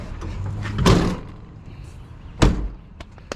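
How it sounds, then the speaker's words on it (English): A door on a workshop job with a 2017 Toyota Hilux being pushed shut, two sharp thuds a second and a half apart with faint clatter between, close by. "close the door"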